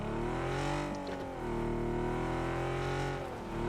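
A vehicle engine drones steadily in the PUBG battle royale game on the Erangel map, a loud close hum with shifting pitch as it revs and eases, heard alone.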